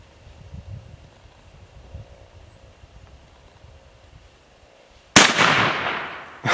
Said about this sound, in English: I just try shooting the wood.